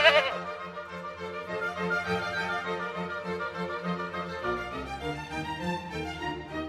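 A prize goat bleats in a long, wavering, close cry that holds steady for several seconds, loud and alone.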